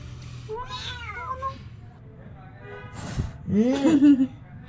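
A fully white, furry cat meows twice, a higher call first and a louder, drawn-out one near the end, with a person talking softly in between.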